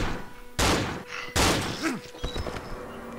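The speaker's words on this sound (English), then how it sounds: "He's shooting at you, but can't hit you." Two heavy, booming gunshots from the horror video game Cry of Fear ring out about a second apart, followed by softer thuds and shuffling and a brief voice.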